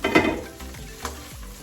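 Garlic frying in a pan with bay leaf, black pepper and fish sauce: a brief sizzle, then a few scrapes and clinks of a utensil against the pan, close and with no voices.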